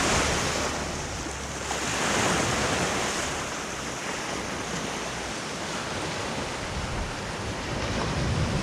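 Sea waves washing in at high tide on the Konkan coast near the Kunkeshwar temple in Devgad, Sindhudurg, a steady broad roar of surf with gusts of wind buffeting the microphone, no voices.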